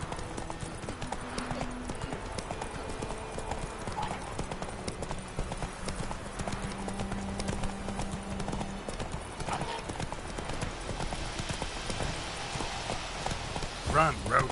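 Hooves of Roach, a horse in the video game The Witcher 3, clip-clop in a steady galloping rhythm throughout, with game music and ambience underneath and a brief whinny or vocal burst near the end; speech is also present.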